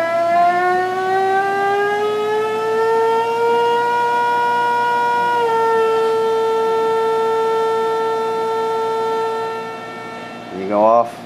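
A PVM2000 high-power plasma generator gives off a loud, steady, buzzing harmonic tone whose pitch dips slightly midway. It holds for about ten seconds, then cuts out with a brief final burst.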